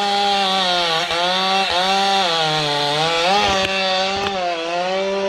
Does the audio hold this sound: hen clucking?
no